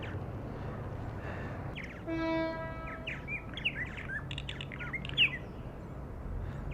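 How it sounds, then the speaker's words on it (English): Purple martins calling near a birdhouse in Tofino on Vancouver Island: scattered chirps and squawks from more than one bird over steady low background noise, with a brief whistle-like tone near the start. "Alright, so that is telling me that's a purple martin."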